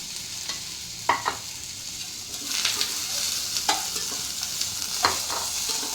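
Soybean pieces frying lightly in a hot pan with a steady low sizzle, broken by a few sharp scrapes and clacks of a spatula stirring at intervals, no voices.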